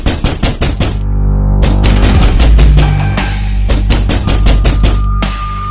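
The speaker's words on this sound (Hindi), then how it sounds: "आखिर इतनी तेज गेट पीट कौन रहा है?" Loud, repeated banging on a gate at home in the evening, with rapid bursts of heavy knocks, short pauses, then more pounding, close and forceful with no talk.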